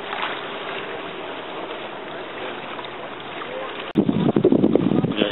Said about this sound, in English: The water is a bit choppy.